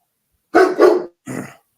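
A dog barks three times, two quick loud barks close together and then a third after a short pause, near and clear with no voices around them.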